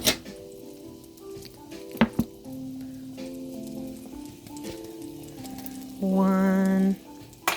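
A dollop melts in a hot pan with a soft, steady sizzle close by. Faint tonal squeals and a brief louder hum rise over it, with a few clicks near the start.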